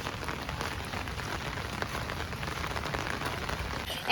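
Steady heavy rainfall patters and hisses on surfaces close by, an even wash of drops from start to finish.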